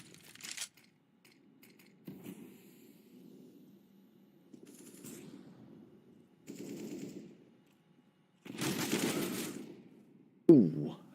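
Bursts of automatic gunfire ring out during an online esports tournament match, in short separate volleys with quiet gaps, the longest and loudest near the end followed by a sharp final shot.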